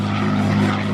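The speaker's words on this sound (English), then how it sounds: "the Red Tails Mustang roar on past" The Red Tails Mustang propeller aircraft roars past at close range, its engine a loud, steady, throbbing drone that fills the whole second with no voices.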